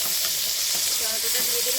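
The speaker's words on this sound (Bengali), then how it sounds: "অল্প আঁচে ভেজে নিতে হবে।" Mourala fish fry in oil over low heat with a dense, steady hiss and sizzle. The sound is close, continuous and moderately loud.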